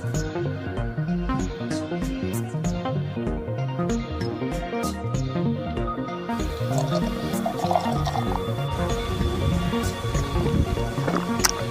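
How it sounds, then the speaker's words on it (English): Water pours steadily onto coffee grounds at the bottom of a container, a continuous close splashing and filling sound that runs for the whole stretch with no talk. "the coffee's down there in the bottom and you just add water"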